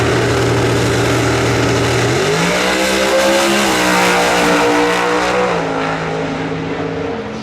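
A drag racing car with a 730 cubic inch engine roars loudly at an NHRA Sonoma Nationals sportsman elimination, its pitch climbing as it launches down the track, then fading slightly as it pulls away.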